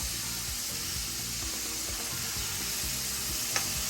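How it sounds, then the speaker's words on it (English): Steady, close sizzling of chicken frying in hot oil, a continuous hiss with a faint low hum underneath. "after frying your chicken for about 7 minutes on the first side, go ahead and flip it over"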